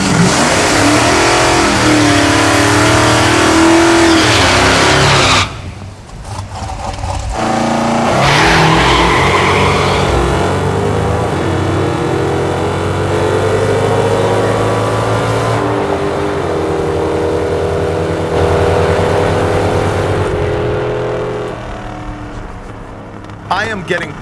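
Hemi-powered drag car launches hard on nitrous, its engine roaring loud and close as the tires spin and scrub, sustained full-throttle revving with brief dips through the run.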